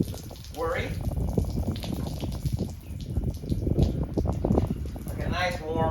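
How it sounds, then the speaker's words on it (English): Warm water running from a hose or tap while a mustang horse is bathed, a steady close splashing gush throughout, with a person speaking over it. "I'm using a little bit of warm water here, so I don't want her to get too worried."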